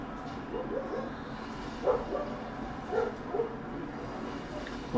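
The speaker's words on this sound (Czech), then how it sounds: "Oni jedou jak bláznivý ty psy" Cartoonish dog barks and yips from a Hearthstone card game match, several short barks scattered over a steady game backdrop, moderately loud.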